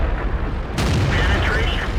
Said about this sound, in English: Getting hit from behind.